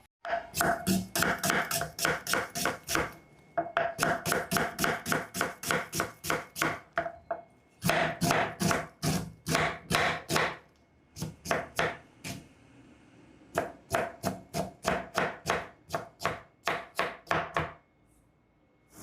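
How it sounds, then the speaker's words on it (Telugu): A knife chops a medium-sized onion on a board in rapid, steady bursts of close, crisp strikes, pausing briefly between runs of cuts. "ఇప్పుడు ఒక మీడియం సైజు ఉల్లిపాయని కట్ చేసుకుందాం"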